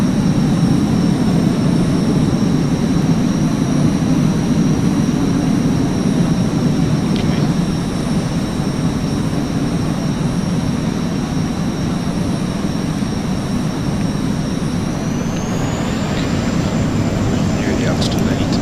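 The engine of an Aerosoft F-16 Falcon jet climbing in the FSX flight simulator, a loud, steady roar with a high whine that shifts pitch near the end, under continuous talk.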